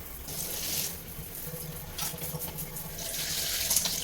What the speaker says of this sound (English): We're gonna take the shower head, turn the water on hot, turn the shower head on